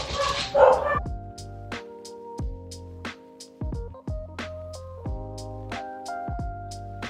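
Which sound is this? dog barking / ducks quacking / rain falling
dog barking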